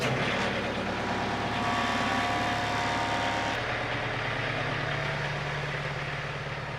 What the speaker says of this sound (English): Get the tractor going here.